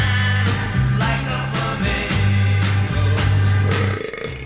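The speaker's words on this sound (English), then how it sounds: "Burps." A long, loud, gurgling burp made up of several pulsing croaks in a row, voiced close and alone, with no talk over it.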